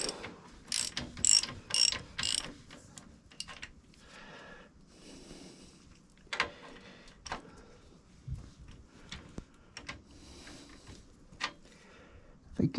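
Ratchet clicking in bursts while turning the swing arm pivot pin on a Kawasaki GTR 1000 motorcycle, a run of quick close clicks early on and then scattered single clicks and clunks, with some quiet shuffling between.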